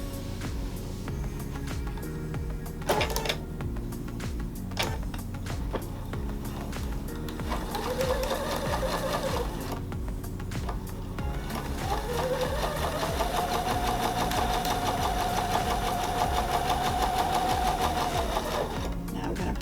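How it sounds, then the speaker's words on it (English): A sewing machine stitches down pieces of a Snail's Trail quilt block, running in a steady, close whirring stretch with brief pauses and a faint rising tone. "sew it down."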